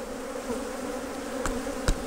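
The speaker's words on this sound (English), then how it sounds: "Angry bees" Honey bees buzz in a steady, sustained drone around an open hive during an inspection in western Oklahoma, agitated and close, with a couple of brief sharp knocks near the end.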